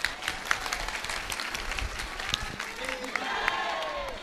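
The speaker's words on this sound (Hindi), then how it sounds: "अब ताली बजाओ।" Audience applause at a spiritual discourse gathering after a married couple is reconciled, a dense steady patter of clapping with voices talking over it throughout.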